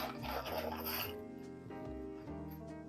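Hands rummage through a workshop bin of screws, the small metal pieces clattering and rattling in a quick jumble for a few seconds at close range.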